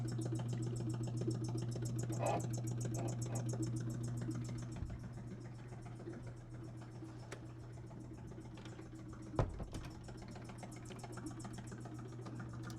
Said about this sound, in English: What you hear is a vacuum pump.